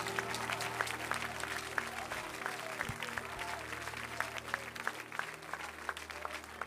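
A church congregation applauds in acclamation of Jesus, with continuous, dense clapping from a large crowd heard at a moderate distance, faint voices mixed underneath.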